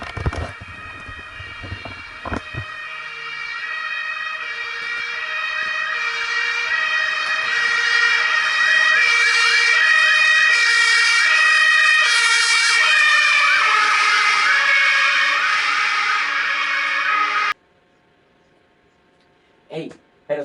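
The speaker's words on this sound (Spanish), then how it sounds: "esto lo vemos en el sonido de los autos, las sirenas en movimiento" A loud wailing siren on a moving vehicle sweeps up and down continuously, its pitch sliding with the Doppler effect as it passes, then cuts off abruptly, followed by brief quiet.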